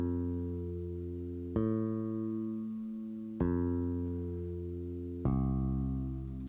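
A pattern from the FL Studio channel rack plays back as sustained, clean synthetic tones, with the note or chord changing every couple of seconds, each change starting with a sharp attack and then fading slowly, alone and fairly quiet.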